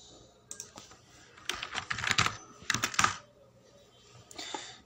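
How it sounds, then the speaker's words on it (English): Typing on a computer keyboard, a quick run of clattering keystrokes in two dense bursts with a few scattered single taps before and after, close and fairly soft. "I should type today."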